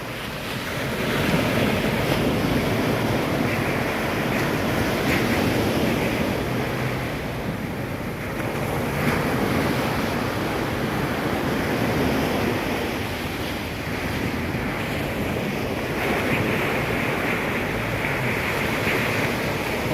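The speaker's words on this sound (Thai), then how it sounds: "เก็บบรรยากาศ ทะเลตอนเช้าๆให้เพื่อนๆได้ชมกัน" Morning ocean waves roll onto Phayun beach in Ban Chang, Rayong, a steady loud surf wash rising and falling gently, mixed with wind noise on the microphone and no speech.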